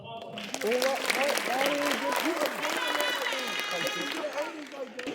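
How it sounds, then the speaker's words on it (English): An audience at a school athletic awards event applauds steadily for several seconds, a dense wash of clapping with voices and cheers mixed through it. "let's give a round of applause for Pablo."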